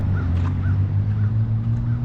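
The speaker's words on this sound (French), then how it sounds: "Waouh, c'est un corbeau." A crow in a forest gives a few short, hoarse caws spaced about half a second apart, faint above a strong low hum and rumble of wind or handling noise.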